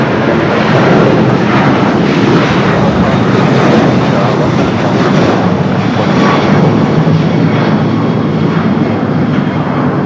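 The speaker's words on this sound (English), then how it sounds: "the flight to Miami, 777-200ER up next for takeoff" Boeing 777-200ER jet roaring loud and steady through its takeoff roll at Los Angeles airport, bound for Miami, a dense broadband engine thunder holding for the full stretch with little change.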